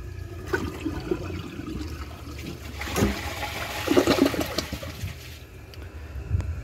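A one-gallon toilet flushes in a bathroom, a rushing gurgle that builds around the middle and drains off, followed by the softer hiss of the tank refilling; moderately close, with no talking.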